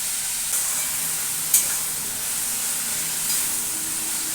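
Vegetable shukto is stirred and mixed in a hot pan: a steady, close sizzling hiss with a few faint scraping touches and one sharper clink midway.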